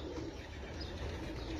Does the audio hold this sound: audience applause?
no